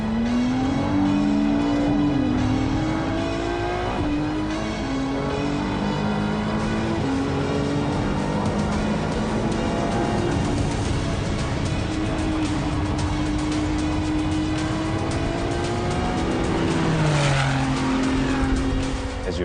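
A Ferrari Challenge race car accelerating at The Bend circuit during qualifying, its engine loud and continuous, revving up and down through gear changes with brief tire squeal, heard from the cockpit throughout.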